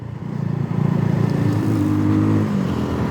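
A Benelli Leoncino 250 motorcycle engine runs with a steady low throb, rising slightly in pitch partway through, loud and close.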